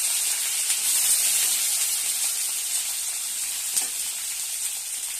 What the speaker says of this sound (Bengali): তেলটা খুব গরম হয়ে গেছে, সেখানে আনাজগুলো ছেড়ে দিলাম।